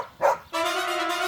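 A dog barks nearby in a puppet show for kids, giving a short yip followed by a sustained, steady whining bark that holds its pitch, loud and alone.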